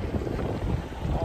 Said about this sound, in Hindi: इतनी हवा चल रही है, सीरियसली इतनी ठंड है ऑलरेडी